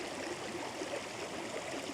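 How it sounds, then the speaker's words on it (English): A steady rush of flowing stream water among ice and snow in winter, continuous and even, with no breaks or voices. "we got ice, we got flowing water"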